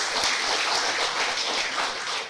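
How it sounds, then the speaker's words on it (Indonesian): Audience applause at a government ceremony, a steady dense wash of clapping throughout, fairly loud and without talk. "Tepuk tangan."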